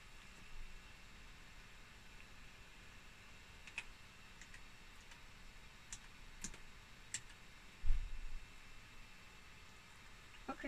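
Keys on an Amstrad ALT286 laptop keyboard are pressed slowly and irregularly, giving faint, sparse clicks over a quiet room hiss, with one slightly heavier thump partway through.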